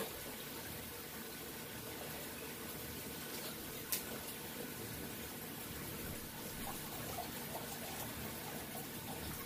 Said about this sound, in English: I'm actually pumping water now. The water just kicked on, topping off